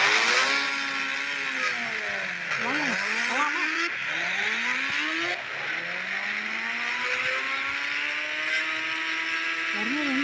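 A racing car engine in a mobile racing video game revs loudly and continuously, its pitch sweeping up and down through repeated gear changes and accelerations, with no talk over it.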